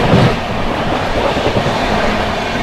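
Passenger train, the West Bengal Sampark Kranti, rolling past another train near Mirzapur, a loud steady rumble of wheels and carriages with faint clickety-clack throughout.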